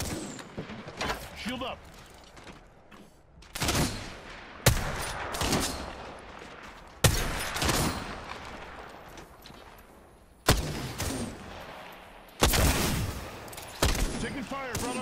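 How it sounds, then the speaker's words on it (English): Repeated bursts of gunfire strike the player in the battle royale shooter Apex Legends, loud impacts arriving every second or two with short lulls between, while a voice speaks briefly over the shooting. "Taking fire, brothers."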